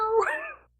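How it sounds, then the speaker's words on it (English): A cat named Calvin meows loudly at a back door, wanting to go outside: a single drawn-out, wailing cry that rises and then fades, close by and alone. "Calvin's screaming at the back door. He wants to go outside."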